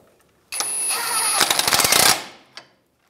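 Bolt on a rear shock absorber of a 2007-2013 Acura MDX being snugged up with a power tool: a loud, sustained rattling burst of rapid hammering impacts lasting about a second and a half, followed by a brief clack.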